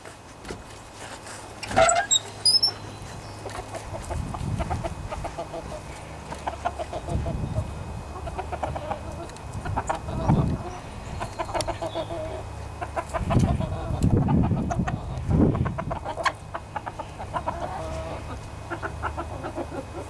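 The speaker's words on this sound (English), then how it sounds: "let's let them chickens out" Chickens cluck and murmur throughout, with scattered higher calls, against steady outdoor rumble and some handling noises nearby.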